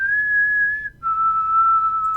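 A single person whistles two long, steady notes close by, the second slightly lower after a brief pause.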